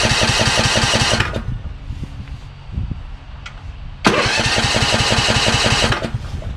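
A lawn tractor engine started on choke catches and runs roughly for about a second, dies into a quiet gap, then fires again and keeps chugging loudly and close.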